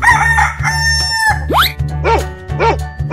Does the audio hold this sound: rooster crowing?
yes